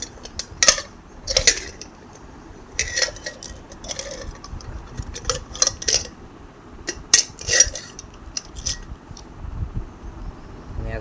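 Metal clanks, clicks and scrapes as the lid of a pressure cooker is worked loose during a repair, arriving in irregular bursts of short, close-up ticking metallic knocks with brief pauses between them.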